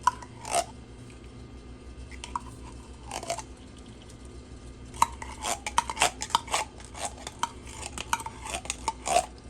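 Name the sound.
adding canned tomato paste to beef stew pot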